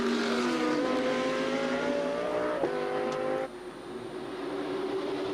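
GT2 race cars at the Red Bull Ring, including an Audi, roaring at sustained high revs with rising engine pitch, one car dropping off abruptly as others continue loud and steady.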